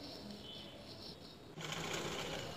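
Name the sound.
sewing machine stitching petticoat frock side seam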